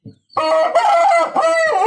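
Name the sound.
rooster crowing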